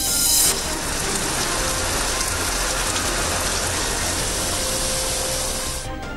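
Heavy rain pours down in Chattogram, a dense, even hiss of drops striking surfaces that holds steady throughout, loud and close with no voices.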